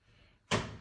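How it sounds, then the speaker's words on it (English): A door opens in an echoey room with a single sudden thunk partway through, followed by a brief broadband rush that fades over the rest of the moment. "Maybe I'll keep the door open."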